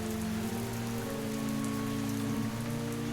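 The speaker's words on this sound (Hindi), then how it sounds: "चारों ओर सिर्फ हवा की सनसनाहट और बारिश की टप टप सुनाई देती" Steady rain patters on a village on a dark, rainy night, a dense even hiss that never lets up, with a low sustained droning tone beneath it and no voices.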